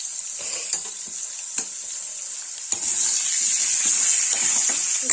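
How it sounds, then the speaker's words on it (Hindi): Kohlrabi fries in hot oil for Kashmiri-style monje haakh, a bright continuous sizzle punctuated by scattered spoon clicks and stirring scrapes, growing louder and fuller partway through. "इसको तेल में फ्राई करेंगे"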